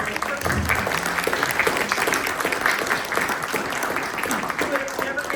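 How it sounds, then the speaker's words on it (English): An audience at a Village of Barrington trustees candidate forum gives a sustained round of applause, crowded, even clapping that carries on throughout while a voice speaks over it. "Give her a round of applause."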